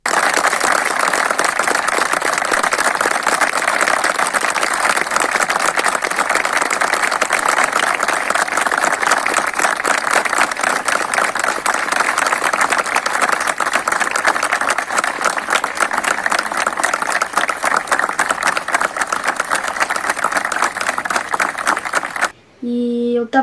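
A crowd applauds at a burial in the Umuarama municipal cemetery, mourning a victim of a bus accident; the dense, steady clapping goes on for over twenty seconds, then cuts off sharply.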